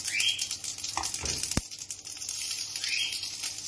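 Mustard seeds and curry leaves sizzle and crackle steadily in hot oil for tomato kurma, with a stirring scrape and a brief sharp clatter midway, close and moderately loud.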